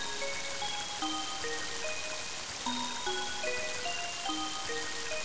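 Rain in the video game Mother 3, a steady soft hiss of falling rain under a gentle, sparse melody of plucked tones, continuous and even at moderate volume with no voices.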